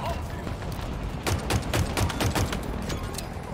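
Gunfire in the video game Halo Infinite, a rapid burst of shots mid-clip over a game soundscape, with players talking over it.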